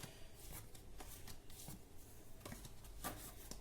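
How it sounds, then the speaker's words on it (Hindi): Tarot cards being shuffled by hand, a faint papery rustle of repeated riffling flicks with a few cards slipping and falling, no talk over it. "ये तो बहुत सारे कार्ड्स गिर गए"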